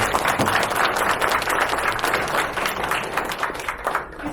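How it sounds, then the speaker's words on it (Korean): Applause from an audience at a Korean mission-site progress meeting, a dense, steady wash of clapping close by that thins toward the end. "박수 한번 부탁드립니다."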